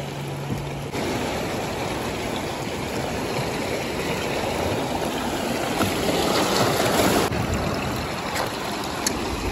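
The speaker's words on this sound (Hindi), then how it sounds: "पानी भी आ रहा है" Sea waves washing in at Shelly Beach, Nambucca Heads, Australia, a shell-covered shore: a steady, broad rushing wash that swells slightly in places, with no talking.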